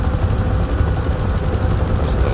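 A Huey helicopter flies a firefighting mission with a load swinging beneath it, its rotor and turbine producing a loud, constant close-up thrum with a pulsing low-end beat throughout.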